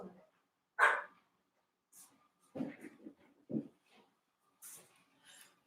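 A dog barks a few times nearby in a home, short sharp yelps coming between a woman's chatter.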